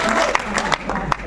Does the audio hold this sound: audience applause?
yes